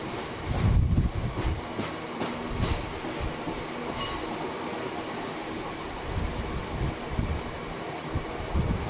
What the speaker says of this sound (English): These long box wagons were a frequent sight on Teesside, working various mineral flows to and from the import terminal at Teesport.